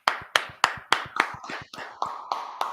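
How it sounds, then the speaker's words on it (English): Sharp, rhythmic hand claps ring out at a scripture study class, about ten crisp claps in an even beat, close and loud, a slightly looser pattern near the end. "Let's clap it up."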